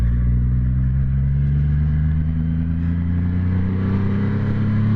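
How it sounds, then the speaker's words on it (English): A 2021 Triumph Rocket 3R muscle cruiser motorcycle idles and revs with a deep, steady engine rumble, held close and loud with a slight rise in pitch over five seconds, no talking. "You can feel the engine just, and it's like ready to go."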